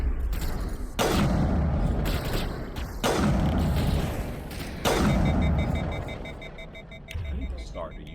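Gunfire in Mass Effect, with several heavy booming shots about every two seconds, each leaving a rumbling tail, and steady mechanical beeps late in the stretch, under someone talking.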